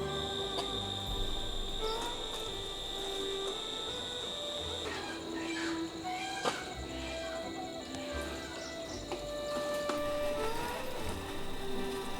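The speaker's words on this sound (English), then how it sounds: "The city's noise fades, replaced by the soft hum of crickets" Crickets chirp steadily on a quiet night in Bangladesh, a continuous high trilling with faint background hum and no voices.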